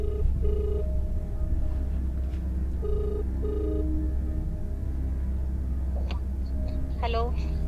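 A telephone bell rings in repeated short double bursts, fairly clear over a low room hum, followed near the end by a brief chirpy electronic tone.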